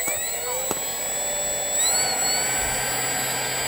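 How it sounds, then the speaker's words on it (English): A fan-powered radio-controlled airboat motor runs with a steady high-pitched whine and whoosh that rises in pitch partway through, heard alone and fairly close. "Engine on."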